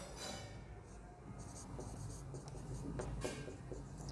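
Chalk or marker scratching across a board during a chemistry lecture on the periodic table, a steady faint scraping of short strokes over a quiet room hum.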